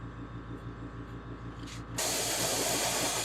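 An airbrush sprays white sealer onto a plastic crawfish lure: after a low steady hum, a loud, continuous close-up hiss starts abruptly partway through and holds to the end.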